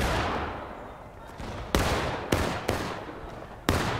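Musket-style gunfire in the Civil War game War of Rights cracks out as sharp shots, several spaced apart over a rolling background of distant volleys and battlefield din.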